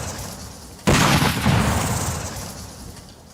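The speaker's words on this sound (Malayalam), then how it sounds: "അതിലേക്ക് നമുക്ക് വെടിവെച്ച് നോക്കാം." A homemade cannon fires at a can of spray paint hung against a wall: one sudden, loud, close blast that cuts through quiet background noise, then a long rumbling roar that slowly fades.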